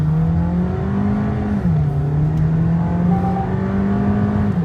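Inside a Volkswagen Virtus 1.5 GT sedan with a DSG gearbox, the engine pulls hard under full throttle with a loud, steady drone that climbs in pitch, dips briefly at the gear changes and then rises again.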